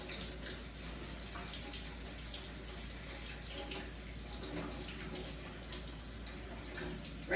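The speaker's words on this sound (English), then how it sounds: "we're going to take it over here to some water, and I'm going to rinse it out" Hot water running from a tap while a Norwex cloth treated with stain spray is rinsed and agitated beneath it, a continuous splashing rush close by with brief sloshing changes.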